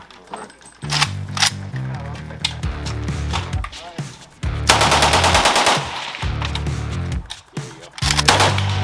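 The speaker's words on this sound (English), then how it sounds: "let the students, shoot their new rifles, sight in their stuff, and play around a little bit with a couple of the shop machine guns" A shop machine gun fired by students at a red silhouette target during an AK build class: loud, close automatic bursts of varying length separated by short pauses, with people talking between them.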